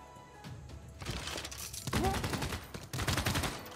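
Units attacking in Civilization VI fire game gunfire, a burst of crackling volleys and sharp bangs that builds over a few seconds, with one brief tonal blip partway through.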